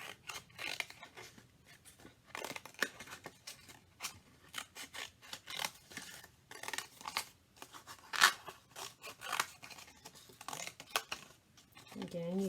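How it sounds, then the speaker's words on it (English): Scissors snip through paper in a series of short crunchy cuts spread irregularly over several seconds, close and fairly quiet, with a few soft rustles of the sheet between cuts as a line design is made. "If it gets too difficult to cut all the way across, you can turn your paper and come in towards the area that you've already cut from the other side."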